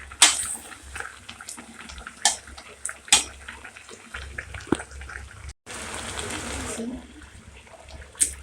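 Water splashes and gushes into a cooking pot of jute leaves and jackfruit seeds in a home kitchen, with bursts of pouring between clinks and brief pauses.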